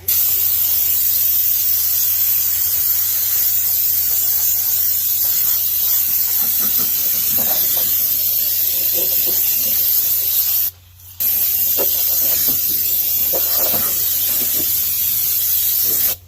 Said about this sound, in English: I'm just going through and trying to spray anything that looks like it might rust at some point.